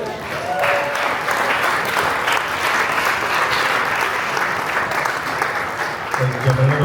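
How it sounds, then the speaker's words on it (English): Wedding reception guests applaud after the speeches, a loud, dense wash of clapping filling the room for several seconds before a voice returns at the end. "Ladies and gentlemen, a little round of applause for our man of honor and our best man."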